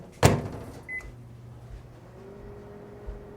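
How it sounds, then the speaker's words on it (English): A microwave oven runs while heating water and refrigerated hide glue: a sharp door thump, a short electronic beep, then a faint, steady hum, with no talking. "I've preheated the water in the microwave so it's just below boiling"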